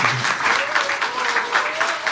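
Applause from an audience at a gathering of YouTubers, steady clapping throughout with a faint voice running underneath.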